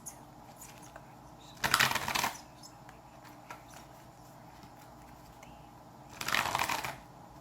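Tarot cards shuffled in two short riffling bursts, a louder one early and another near the end, with quiet room tone between and no talking.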